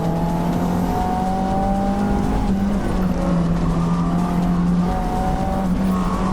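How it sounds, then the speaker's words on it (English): A Mustang GT on a mountain touge road with completely broken rear dampers and a stock setup roars loudly and steadily with tyre noise, engine pitch shifting through the run. "you can actually hear some of the wheel skipping"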